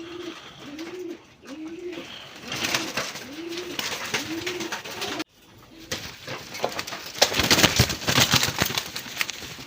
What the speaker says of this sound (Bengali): বন্ধুরা এখানে আরেকজন কবুতর আছে, রাসগোল্লা কবুতর।